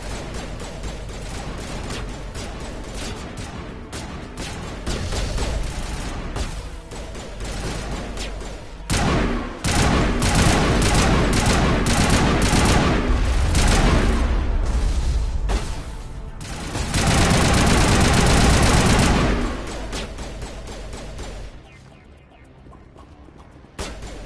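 Sustained heavy gunfire in Mass Effect 1 Legendary Edition, dense, loud bursts and explosive impacts rolling almost without pause for a long stretch before thinning out near the end.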